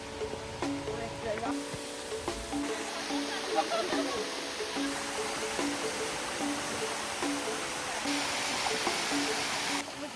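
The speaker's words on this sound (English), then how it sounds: "We are at Gembleng Waterfall." The small Gembleng Waterfall in Sideman, Bali, pours in a constant broad rush of falling water, with faint voices and other outdoor sounds drifting over the steady flow.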